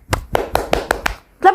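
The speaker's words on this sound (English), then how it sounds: "clap it up for Bloxus" A run of six sharp hand claps in a steady, quick rhythm, close and loud, with a voice starting to talk just after them.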